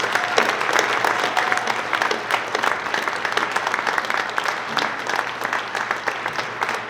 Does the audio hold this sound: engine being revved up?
no